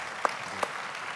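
Audience applause at a political congress panel discussion, a dense steady patter of many hands clapping at moderate distance, with a couple of sharper individual claps standing out.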